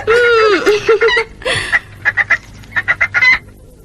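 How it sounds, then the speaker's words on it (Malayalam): Hen clucking as a sound effect in a Malayalam radio drama, a burst of cackling at first, then a series of short rhythmic clucks that fade, with a voice briefly under it. "കോഴി ഇന്ന് മുട്ടയിട്ടത് ത്രേസയുടെ വീട്ടിലാണെന്നാ തോന്നുന്നേ"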